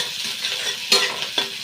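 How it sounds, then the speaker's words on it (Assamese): Eggplant and potato with garlic and green chili are stirred and fried in a wok: a steady close sizzle runs throughout, broken by two brief scraping strokes of the spatula. "এয়া মই ওলট পালট কৰি দিম"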